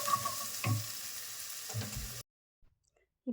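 Curry leaves and turmeric fry in a pan with a steady close sizzle and a few stirring scrapes for about two seconds, then everything cuts to near silence.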